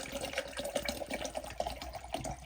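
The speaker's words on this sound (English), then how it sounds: "Let me make sure I fill up my Hello Kitty cup." Tap water runs steadily into a Hello Kitty cup, a soft continuous splashing and trickling indoors with no voices.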